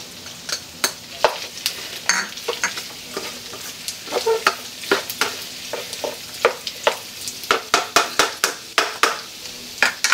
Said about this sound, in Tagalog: Lagay na natin yung sibuyas.